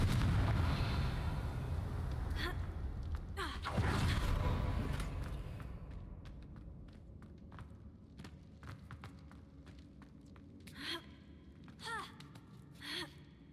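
Fiery blasting spells from Hogwarts Legacy erupt as heavy, rumbling explosions early on, then give way to scattered sharper bursts and cracks spaced through a quieter stretch, with no talking.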